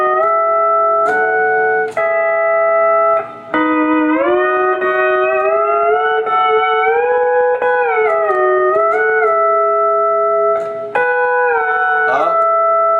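Pedal steel guitar playing a dominant run with the E lever and a lowered sixth string, sustained chord tones bending up and down as pedals and levers engage and release, played alone and close.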